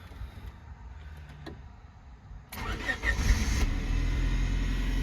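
A Honda Civic with a stalling problem cranks and catches about halfway through, then settles into a steady, close engine idle with a faint rattle.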